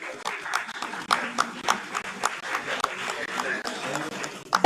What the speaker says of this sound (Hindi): तालियों से उत्साहवर्धन करें।